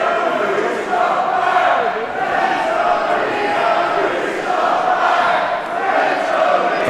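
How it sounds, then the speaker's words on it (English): A divided crowd at a live pro wrestling match cheers and chants in loud, rolling waves, with rhythmic swells of many voices throughout. "it seems like this divided crowd is getting under the skin of Leon Slater"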